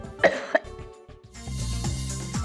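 An allergy sufferer coughs twice in quick, close bursts, followed by a short pause and then a muffled, continuous background of low indoor noise.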